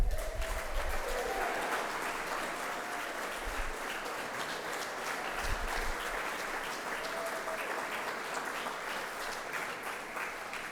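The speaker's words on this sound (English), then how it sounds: "save some of that applause" Sustained audience applause for the mayor at a Masonic Temple 25th anniversary event, a dense steady wash of many hands clapping that continues evenly throughout, with no voices.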